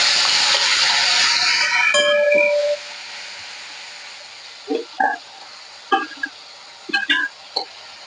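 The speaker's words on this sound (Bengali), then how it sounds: "এখানে আমার টমেটো আর আদা বাটাটা তেল ছেড়ে দিয়েছে ভাজতে ভাজতে।" Grated tomato hitting hot oil in a pan with hing for a vegetarian potato and cauliflower curry, a loud hissing sizzle that fades after a few seconds, followed by softer scattered pops and sputters.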